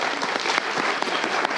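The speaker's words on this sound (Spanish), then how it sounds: "Un aplauso para ellos" An audience at a film-event panel on animation applauds the young participants, a dense, even burst of clapping that stays loud and close for its short span with no talk over it.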